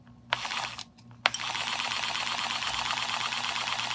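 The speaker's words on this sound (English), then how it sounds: "It looks like a little sewing machine." A small battery-powered toy sewing machine starts with a couple of clicks, then runs steadily with a fast, even mechanical chatter, close by and fairly quiet.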